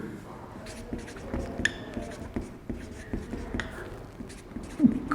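A pen scratches across paper as a teacher writes notes during a chemistry class, giving close, intermittent strokes and taps with short pauses, under a quiet room background.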